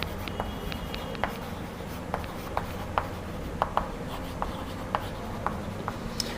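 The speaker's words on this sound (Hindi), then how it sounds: "मैं यहां लिख देता हूं" A pen scratches on a writing surface as a name is written by hand during a lesson, a string of short strokes and taps at a quick uneven rhythm, close and clear with no speech.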